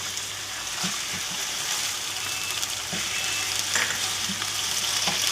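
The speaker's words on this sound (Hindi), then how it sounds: "इसको थोड़ी देर हम भूनेंगे प्याज के साथ।" Ginger garlic paste fries with onions for a tinda (round gourd) sabzi in a steady, close sizzle, with a few soft scraping stirs over the constant crackle.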